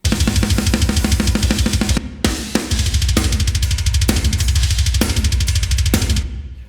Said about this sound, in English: The reverb is on the entire drum bus.